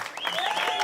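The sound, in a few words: audience applause for festival volunteers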